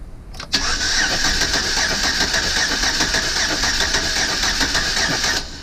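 A Chevrolet Silverado engine with misfires cranking on the starter, a steady, loud rhythmic churn lasting several seconds before stopping abruptly.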